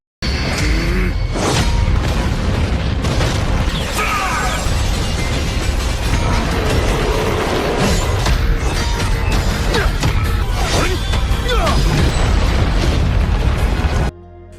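Huge explosion from two clashing attacks in an animated fantasy battle: a sustained, loud, roaring blast with crackling bursts and rumbling booms lasting many seconds before cutting off abruptly.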